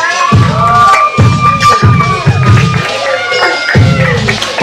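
Wrestling crowd at a multi-man match, a loud, dense roar of cheering and shouting with whistles and high-pitched yells swelling and rising in waves.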